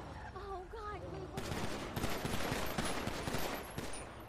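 Gunfire erupts as a security team opens fire in a game scene, a dense rapid burst of shots following a brief voice, continuing loud and sustained to the end.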